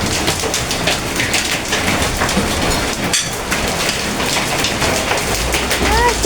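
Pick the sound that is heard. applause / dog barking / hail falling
hail falling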